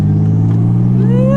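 A Nissan Z with a new catback exhaust revving nearby, a loud deep engine drone that holds steady then climbs in pitch toward the end as the revs rise.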